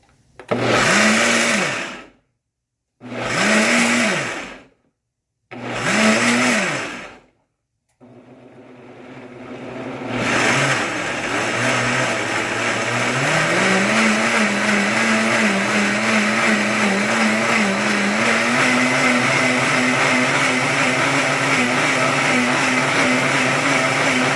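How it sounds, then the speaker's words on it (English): A blender purees corn and water, whirring in three short bursts, pausing between each, then running steadily for a long stretch, its motor pitch shifting slightly as the mixture churns. "I'm just going to turn the blender on, and I'll be using the puree button"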